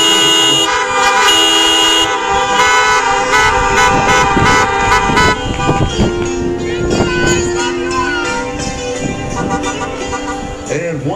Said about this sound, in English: with your applause and the honking of your horns, let's hear it good and loud